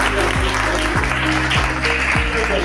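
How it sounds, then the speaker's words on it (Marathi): An audience claps to honour a Shahapur achiever at a felicitation ceremony. The applause is a steady, loud wash of clapping lasting a few seconds, heard over sustained background tones. "आपण सर्वांनी त्याचा टाळ्या वाजवून स्वागत करावं"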